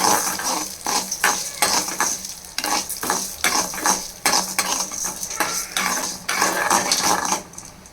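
Urad dal roasting over low heat in a pan, stirred with a metal spoon: repeated rhythmic scrapes and dry rattling of the lentils against the pan, close and clear, with a soft sizzle and no talking.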